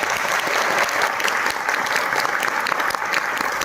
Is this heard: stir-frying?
no